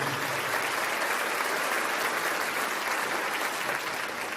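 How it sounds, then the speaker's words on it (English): Sustained round of applause from an audience at a teaching event, dense steady clapping filling the whole stretch at even loudness with no voices over it. "everybody give a round of applause for yourself"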